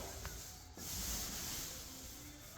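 An 18-inch paint roller pressed hard across absorbent drywall gives a steady, close, broadband rolling hiss with one short break, and no talking.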